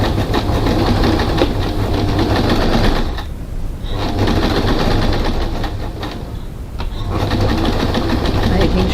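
A sewing machine runs a long basting stitch down the middle of a crossbody bag pocket: three loud, close runs of fast mechanical whirring and clatter separated by two short pauses.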